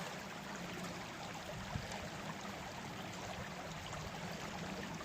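Creek water flowing on a cool March day, a steady, faint broadband rush and trickle heard alone without talk.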